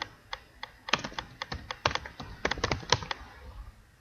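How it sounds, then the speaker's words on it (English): Quick keystrokes on a computer keyboard tap out a short command in an irregular run of crisp clicks, close and fairly quiet, before trailing off. "Open that up and type System Info."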